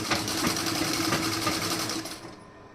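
Sewing machine stitching folded piping fabric, a fast steady whirring rattle of the needle close by that runs for about two seconds and then stops, with no talk.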